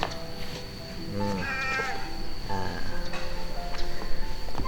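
A fat, ownerless wild cat meows repeatedly in a close, clear series of drawn-out calls over steady background hiss and faint insect-like noise, with no talk.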